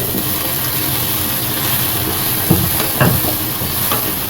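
Tomatoes being sautéed and stirred with garlic for chicken tinola, a steady loud hiss of frying with a few scraping stir knocks near the end.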